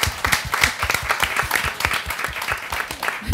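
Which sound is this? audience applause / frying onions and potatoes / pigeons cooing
audience applause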